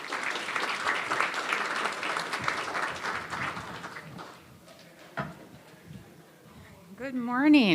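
An audience applauds a speaker at a talk, a broad wash of clapping that swells and then fades away, followed by a single voice beginning to speak near the end.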